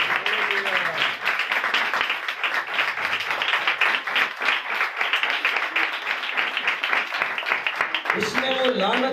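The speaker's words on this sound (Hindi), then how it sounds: "यीशु के लिए जोरदार तालियां।" A congregation applauds loudly and steadily for nearly nine seconds after a sermon, with strong rhythmic clapping throughout and a voice entering near the end.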